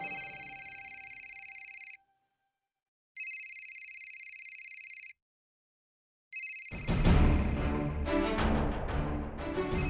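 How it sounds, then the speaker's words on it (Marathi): A telephone rings in a TV drama scene, sounding two clear electronic ring bursts separated by short silences, then a third ring overlapped by swelling background music. "कुसुमचा फोन आहे."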